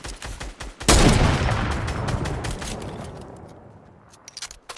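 Dense, sustained burst of gunfire in a multiplayer shooter, a sharp loud onset followed by rapid overlapping shots that slowly fade, with a few scattered pops near the end.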